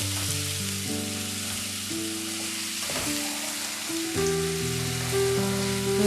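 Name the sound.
masala frying in oil with a little water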